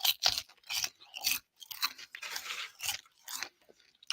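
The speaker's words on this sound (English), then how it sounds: "Little kettle corn snack. So if you hear me munching on something, that's what it is." Kettle corn snack being munched close to the microphone, with crisp crunches and chewing in irregular bursts separated by brief pauses, and no talking.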